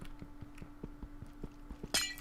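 Glass blocks broken in the Minecraft modpack Sky Factory 3: a quick series of faint, regular ticks of mining, closing with a bright glassy shatter near the end.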